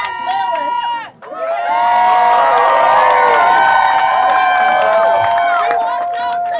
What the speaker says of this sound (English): We want to cheer in our first 2 dancers on the roster